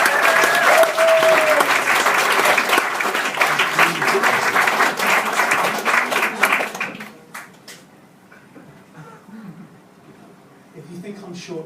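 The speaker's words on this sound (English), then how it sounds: "I want you to clap, I want you to cheer, and I want you to welcome on stage Eugene Butcher" A stand-up comedy audience at the Brunswick in Brighton breaks into loud, sustained applause and cheers for comedian Eugene Butcher, then the clapping dies down to a few scattered claps and quiet room noise.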